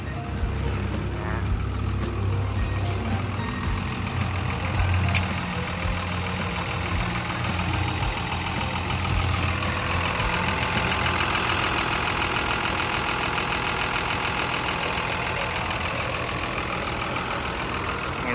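A heavy diesel engine of a Komatsu WA320-8 wheel loader idles steadily up close, a continuous low rumble with a faint knocking texture, no voices.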